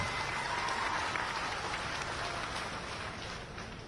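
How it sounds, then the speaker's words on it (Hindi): At a public event in Khaknar, Nepanagar, in Burhanpur district, a crowd applauds Chief Minister Shivraj Singh Chouhan, a faint, distant, hissing wash of many hands that stays fairly steady and tapers slightly toward the end. "एक बार जोरदार तालियां आदरणीय शिवराज सिंह चौहान जी के लिए।"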